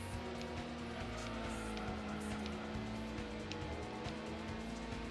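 Racing car engines in Gran Turismo, chasing a Honda NSX, drone steadily and loudly throughout with a constant engine hum and occasional gear-shift blips, no talking.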